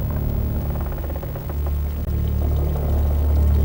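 Water pouring and flowing steadily down a channel in Al-Jazari's medieval water-raising machine, a continuous close rushing with a low rumble, alone without voices.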